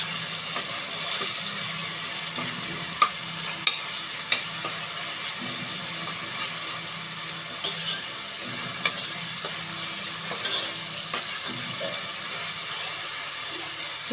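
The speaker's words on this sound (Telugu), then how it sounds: "దీనిలో 1 స్పూన్ అల్లం వెల్లుల్లిపాయ వేస్తున్నాను. ఇది బాగా వేగాలి, పచ్చివాసన పోవాలి." A spoonful of ginger garlic paste fries in a pan with a continuous soft hiss and sizzle, broken by a few faint clicks of a spoon, close by and without talk.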